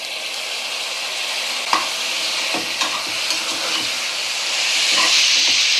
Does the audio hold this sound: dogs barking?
no